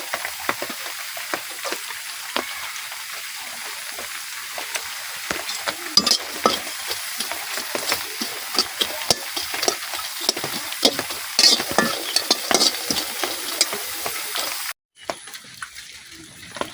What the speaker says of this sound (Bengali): এখন পেঁয়াজগুলো ভাজা নিলাম।